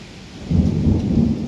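Heavy rain pours down during a thunderstorm, with a loud, deep thunder rumble swelling in about halfway through and rolling on over the steady downpour; no one speaks.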